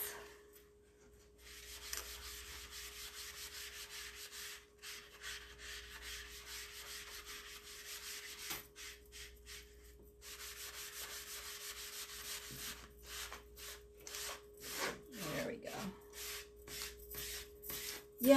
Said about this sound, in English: And get my board eraser.